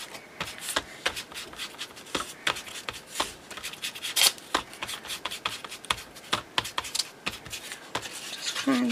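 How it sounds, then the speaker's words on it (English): Scrap paper being scrunched up by hand crackles in quick, dry, close crinkles and taps, a busy irregular rustle with no voices. "scrunch this up a little bit"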